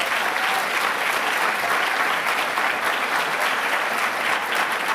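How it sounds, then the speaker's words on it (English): Awards ceremony audience clapping for the runners-up, a full, steady burst of applause that holds evenly from start to finish. "Let's clap for them."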